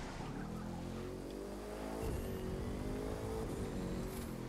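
Bugatti supercar engine accelerating during a point-to-point race in The Crew 2, a steady loud rising roar with a brief gear-change dip midway, no talk.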